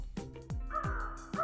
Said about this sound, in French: C'est un corbeau